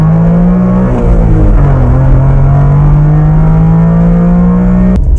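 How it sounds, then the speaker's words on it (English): A 2001 Mazda 626 with an automatic gearbox pulling away from a lay-by, its engine drone loud and close with a steady low tone that shifts pitch as it accelerates, ending in a brief click. "So, automatic box, and we are away."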